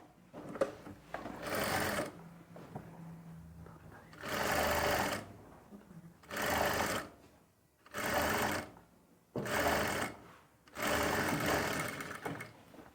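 A sewing machine stitches a 2-inch fabric strip in six loud bursts of rapid whirring, each a second or two long, separated by short quiet pauses.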